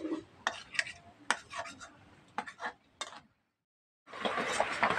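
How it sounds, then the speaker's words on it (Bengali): A metal spatula scrapes and stirs lote fish in a pan, sharp clinks and scrapes coming in irregular bursts up close, then a short silence before a louder sizzling stir resumes. "এবার এইভাবে আমি খুন্তির সাহায্যে আমি কাঁটাগুলো ফেলে দেবো"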